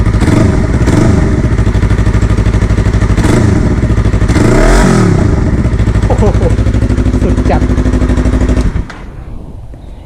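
Yamaha YZF-R3 motorcycle fitted with an aftermarket exhaust, idling loud and close with a raspy pulsing drone and several rising blips of revving before cutting off abruptly near the end; someone speaks briefly over it.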